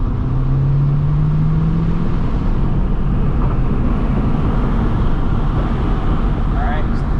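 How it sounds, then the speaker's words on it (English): An Audi S3 engine pulls at full throttle in third gear, a loud, dense roar that holds steady for the whole stretch with a rising drone early on, and voices are faintly mixed underneath. "Then we're going to go full throttle."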